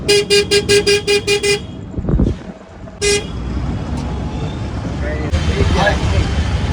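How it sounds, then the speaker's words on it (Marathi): An electric scooter horn honks in a quick series of short beeps, then a single longer toot follows, with traffic noise and voices around it. "हॉर्न पण आहे दाखवते तुला हॉर्न. वाजव वाजव एकदा."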